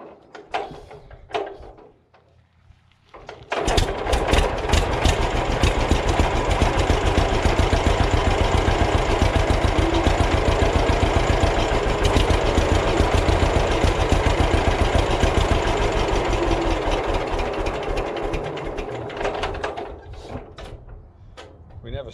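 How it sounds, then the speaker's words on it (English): A 1943 John Deere B tractor fires up after choking and settles into a loud, steady two-cylinder idle with a strong low pulsing beat, running close by for about fifteen seconds before dying away, with brief clatter and voices around it. "We never set the idle on this tractor, so it's easy to shut it off."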